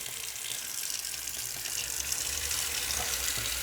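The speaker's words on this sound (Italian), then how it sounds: "Apro l'acqua fresca. Vedete che il getto non è forte." Water from a gentle, cool tap spray runs steadily over a sports car air filter being rinsed, a continuous hiss and splash with no talking.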